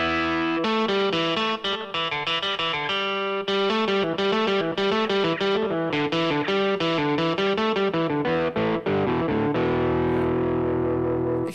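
A distorted electric guitar voice played on a Yamaha Tyros 5 keyboard, a continuous run of heavy, gritty notes and chords with a sustained final chord, loud and close with no talking.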